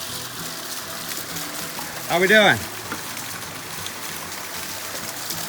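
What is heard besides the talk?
waterfall water flowing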